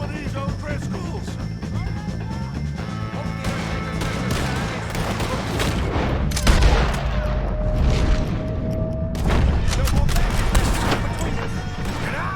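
Gunfire in a Red Dead Redemption 2 shootout with O'Driscoll gang members, dense overlapping shots and crashes running throughout, with louder bursts near the middle and later, while a voice shouts over the fighting.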